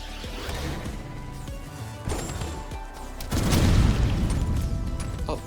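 Explosions from the video game SNKRX burst in a busy, layered sequence, with a sharp crash near two seconds and a denser, louder rumbling blast cluster building from about three and a half seconds onward.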